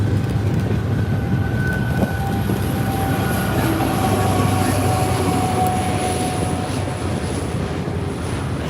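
A Norfolk Southern train led by a New York Central heritage locomotive rolls past at Oakdale, Tennessee, with a loud continuous rumble, droning engine tones and faint wheel squeal, close and steady throughout.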